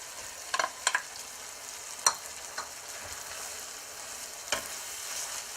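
Okra with brown mustard seeds and tomatoes sizzling in a pan, a soft steady frying hiss broken by a few sharp pops and stirring scrapes.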